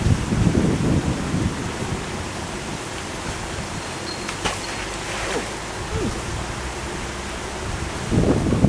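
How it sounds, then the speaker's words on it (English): Wind gusting outdoors, a broad rushing roar that buffets a microphone, stronger at the start and end and easing in the middle, with faint scattered knocks. "It's a bit windy"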